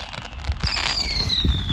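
Fireworks going off at night during an outing in the UK, with a steady crackling burst and a high rising whistle, then low booms of further shells, the display heard from a moderate distance.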